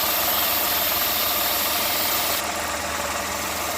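A carburetted engine idles steadily as its throttle screw is turned toward a richer mixture, a continuous close mechanical hum with light rattling and a slight drop in pitch partway through, no speech.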